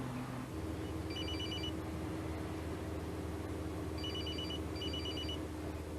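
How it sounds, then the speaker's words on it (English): A telephone rings on a bus in short bursts of rapid trilling, three separate bursts over a steady loud engine rumble and road noise. "Was anybody annoyed by the phone ringing"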